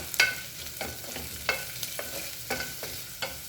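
Finely chopped onion with a pinch of salt is sautéed in a pot, a spatula scraping and stirring in irregular strokes over a soft, faint sizzle, close up and without voices.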